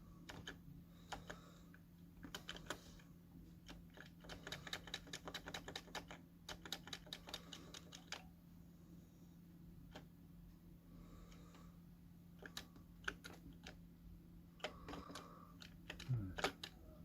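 Keys on a computer keyboard, cursor keys among them, clatter in quick irregular bursts of clicks and taps over a steady low hum, with short pauses between runs.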